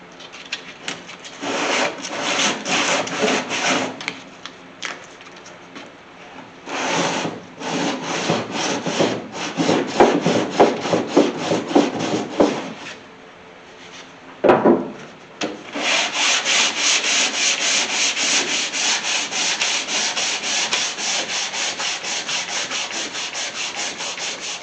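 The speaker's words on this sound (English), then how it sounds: "got some 180 grit sandpaper, my sanding block" Rhythmic back-and-forth strokes of 180 grit sandpaper on a block scrub the bodywork of a shortened 1981 Chevy C30 Squarebody truck, in bursts of rapid passes broken by short pauses, close and loud.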